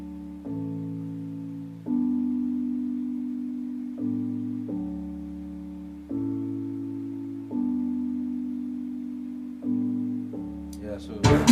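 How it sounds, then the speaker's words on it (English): An electric piano part from an Afrobeat-style beat plays alone, with sustained chords changing roughly every two seconds in a steady, clean, mellow pattern before a brief burst of other sound at the very end. "the next thing now is the electric piano."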